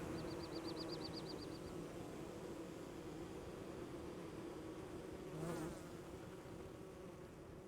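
Bees buzzing around beehives in the video game Don't Starve Together, a steady droning hum with a short chirpy trill early on and a brief swell later, faint and continuous.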